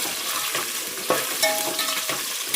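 Onions sizzle steadily in a hot pan as they fry with curry leaves for a jackfruit sambar, with soft scraping and clinking of the stirring spoon on top of the continuous hiss.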